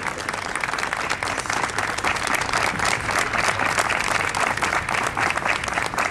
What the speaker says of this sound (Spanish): Un fuerte aplauso a todas las colectividades